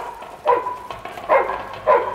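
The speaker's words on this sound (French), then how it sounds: "Des chiens, toujours des chiens près des villages." Dogs barking near a village in a jungle adventure episode, three short barks spaced apart, moderately close and heard alone.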